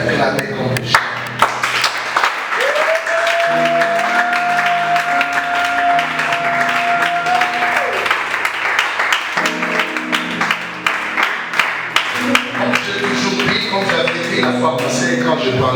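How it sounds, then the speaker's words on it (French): A church youth congregation claps and cheers in loud applause, sharp hand claps over a sustained organ or keyboard chord, with voices rising near the end. "Est-ce qu'on peut acclamer comme des jeunes?"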